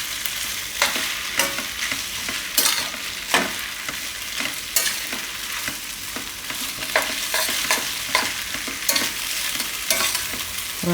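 Thecha chowmein being stir-fried in a pan over a high gas flame, with a steady hiss and sizzle and repeated sharp scraping clatters from the spatula in an uneven rhythm, close and fairly loud, with no one talking.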